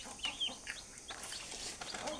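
Village chickens clucking nearby, a few short soft calls scattered over a faint outdoor background with no talking.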